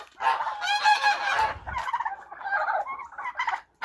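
A flock of farmyard geese in a yard honks loudly and repeatedly, the calls overlapping in bursts of nasal cries, close by and with no talking.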